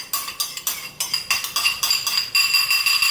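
Clinking and scraping of a noodle mixture being moved from a yellow bowl into a smaller bowl, a run of sharp utensil-on-bowl taps and clinks, close and fairly loud, with no talking.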